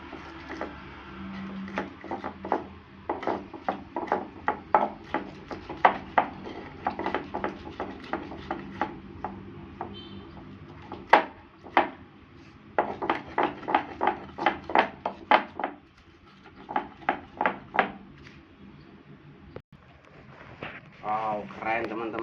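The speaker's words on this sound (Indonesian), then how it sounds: "Wow, tanknya mau ulek-ulek sambal terlebih dahulu." A toy tank grinds chili sambal with a mortar and pestle, producing a steady series of sharp tapping and scraping knocks in uneven clusters, heard under a person talking.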